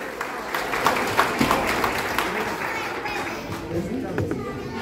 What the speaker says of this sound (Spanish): Fuerte aplauso, bien bonito para todos ustedes